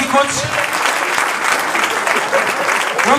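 An audience at a post-match gathering claps loudly and continuously, a dense wash of applause with a few voices mixed in.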